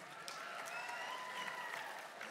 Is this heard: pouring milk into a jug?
no